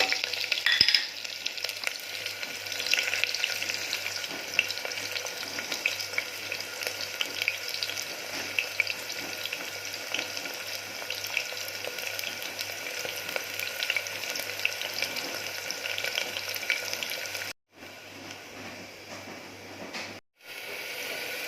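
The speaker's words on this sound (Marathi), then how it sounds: "कांदा टाकून घेऊया गरम मसाला टाकून देऊया" Onion and garam masala, added with curry leaves, fry in a tempering for green chicken curry, giving a loud, steady sizzle throughout with two brief dropouts near the end.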